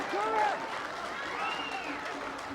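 Rugby league crowd at a grand final clapping and cheering from the stands, a broad, distant wash of applause, with a voice talking over it.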